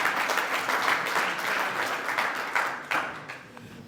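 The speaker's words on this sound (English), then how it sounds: "a big round of applause." An audience at the 2023 FBD Young Farmer of the Year awards ceremony in Sligo gives a steady, dense round of applause that tapers off near the end.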